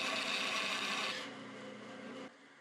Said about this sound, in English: I'm going to do that on the bandsaw.